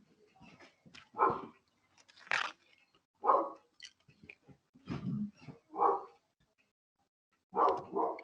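Several dogs bark in short irregular bursts, some loud and close, others softer, with gaps of quiet between them and occasional faint voices in the background.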